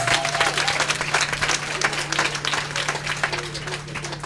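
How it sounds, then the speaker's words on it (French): A church congregation at a parish granite jubilee in Tabou claps together, a dense, steady burst of applause filling the hall for several seconds with faint voices mixed in. "Le peuple vous a applaudi"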